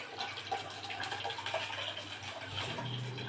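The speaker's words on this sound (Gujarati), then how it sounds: "2 વાટકી ખીચડી લીધી એટલે 6 વાટકી ભરીને પાણી." Water pours steadily into a cooking pot for khichdi, a soft continuous splashing stream lasting the whole moment at moderate, close level.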